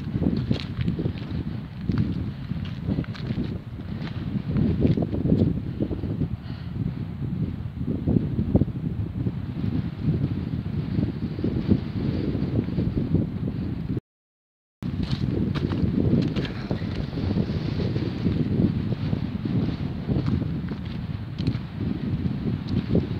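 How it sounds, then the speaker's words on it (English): Strong wind roars steadily across a beach at Sunderland Point, a loud, continuous buffeting against the microphone with faint crunching steps beneath and a brief dropout midway. "Wow, that wind is strong."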